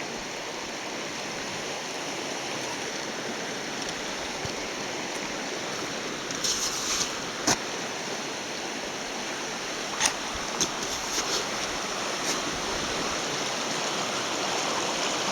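The Weiser River in January runs high at Shoepeg Bridge, up over the northeast bridge footing, producing a steady, broad rushing roar of fast water with a few faint clicks and knocks, and no voices.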